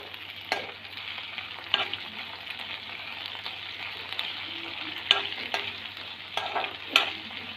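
Tomatoes and spices frying for amla chutney, a steady close sizzle with repeated spatula scrapes and taps against the pan at irregular intervals, over a low constant hum.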